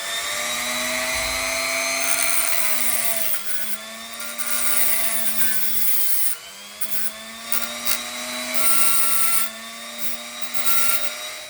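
Rotary power tool cutting away part of a model train chassis, a close, loud, high-pitched whine that dips in pitch as it bites into the material, then climbs again.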